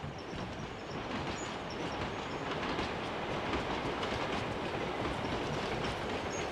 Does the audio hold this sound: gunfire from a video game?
no